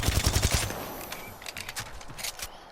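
The Volt SMG fires rapidly in Apex Legends, a fast burst of close, loud shots followed by quieter trailing shots and game effects.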